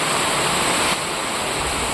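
Heavy rain pours down in a dense, unbroken roar, loud and close, like a downpour drumming on surfaces all around, with no voices heard.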